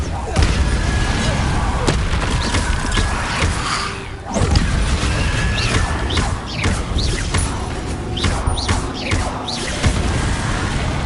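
Incendio fire spell cast in the video game Hogwarts Legacy: a loud, dense burst of whooshing flame and crackling impacts that fills the whole stretch, with a brief dip midway before the roaring blasts resume.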